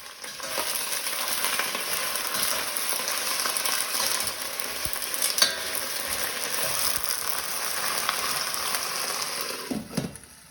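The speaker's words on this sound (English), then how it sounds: "I'm going to go ahead and give that a stir." A spoon stirs vegan Malaysian laksa with sugar snap peas in a hot pan, and the steady frying sizzle carries on for about ten seconds. Light scraping clicks come through now and then, with a sharper knock near the end.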